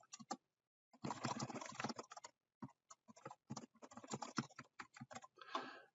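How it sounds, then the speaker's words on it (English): Fingers clatter across a computer keyboard in quick bursts of keystrokes, close and crisp, with short pauses between runs and no talking. "I'm just going to type something in here"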